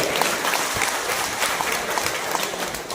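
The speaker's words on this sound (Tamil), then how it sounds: "ஒரு கைத்தட்டல் கொடுங்க." A crowd claps steadily throughout at a Lions Club new members induction ceremony in Thirukkattupalli, a dense, even patter of many hands filling the room without pause.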